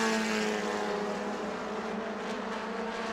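Race cars lapping New Smyrna Speedway, a steady loud engine drone with sustained harmonic tones throughout, holding an even level with no speech.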